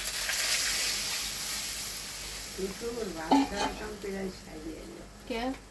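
A fish curry broth boils in a pot over a fire of coconut-tree wood, giving a soft bubbling, crackling hiss that starts alone and then continues faintly beneath a person talking.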